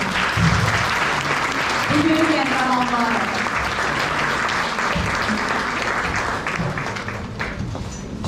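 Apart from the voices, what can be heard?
audience applauding children at a school concert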